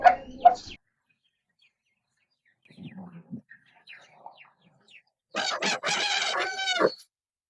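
Roosters on a chicken farm crow loudly, one full harmonic cock-a-doodle-doo near the end after a short call at the start, with faint scattered clucks and rustling in between.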